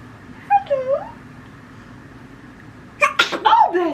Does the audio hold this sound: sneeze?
yes